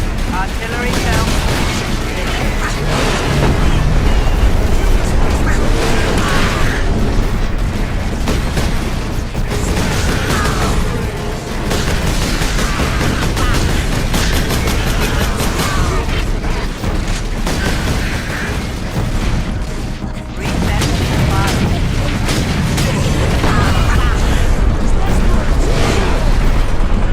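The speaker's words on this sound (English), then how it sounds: "Artillery shell." Artillery shells explode again and again in Warhammer 40K: Space Marine, heavy booms among gunfire and mechanical clatter in a loud, chaotic battle with voices speaking over it.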